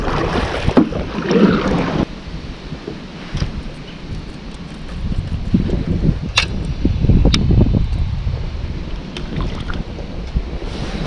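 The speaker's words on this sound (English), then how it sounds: "Gosh darn it, it's getting so windy." Strong gusts blow across a river and buffet the microphone in loud, uneven roaring bursts that rise and fall throughout, with water and boat rumble underneath and no one talking.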